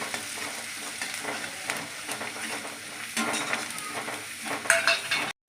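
Mixed vegetables and green gram lentils for poriyal sauté in a pan with a pinch of asafoetida, giving a steady close sizzle with frequent stirring scrapes and clinks, and a brief cutoff near the end.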